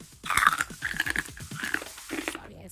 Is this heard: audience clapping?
no